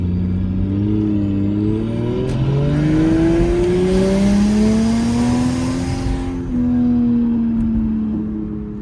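A turbocharged Lexus IS300 with a manual gearbox revs up under acceleration, its engine note climbing steadily then dipping through a shift before pulling again, loud and close from inside the car.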